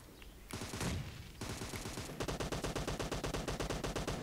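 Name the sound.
M762 rifle gunfire in PUBG Mobile video game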